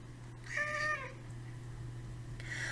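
A cat lets out a single clear meow, fairly close and moderately loud, followed by a fainter second cry near the end over a steady low background hum.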